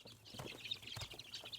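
Chickens clucking close by, a busy cluster of short clucks and chatter with a few louder squawks, steady throughout.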